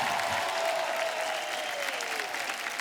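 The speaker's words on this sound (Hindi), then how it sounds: "जोरदार तालियां हमारे मेहमानों के लिए" A studio audience on The Kapil Sharma Show, an Indian comedy talk show, claps loudly and continuously to welcome guests, a dense sustained applause with faint crowd noise.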